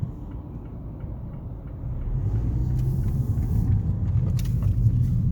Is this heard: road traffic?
yes